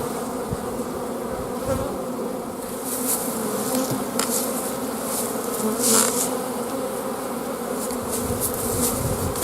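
Honey bees hum and buzz inside an opened hive during a spring inspection after overwintering, a dense close swarm drone with occasional louder passes of bees near the ear, steady throughout.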